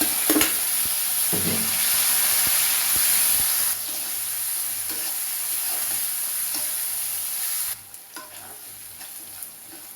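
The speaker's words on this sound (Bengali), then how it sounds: "আমি তেলের মধ্যে ভেজে পেঁয়াজ এবং রসুনগুলো বাদামি কালার করে নিলাম।" Julienned onions and crushed garlic frying in hot oil, a loud steady sizzle with stirring scrapes, easing to a quieter crackle near the end, with no voices.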